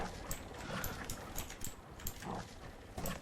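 A dog in Farming Simulator 19 gives a few short yips and barks over a busy game background of soft clip-clop and machinery noise, fairly quiet and near.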